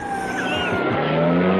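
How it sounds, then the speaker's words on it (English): Car engine revving and pulling away with a brief tire squeal in a radio drama, loud and close, its pitch rising steadily as it accelerates, with faint voices underneath. "He's pulling away with the car."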